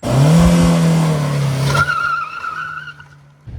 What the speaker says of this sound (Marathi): लो अँड मिडल रेंजमध्ये मिळणारा टॉर्क आणि एन ब्रँडिंगचा स्पोर्टी एक्झॉस्ट आवाज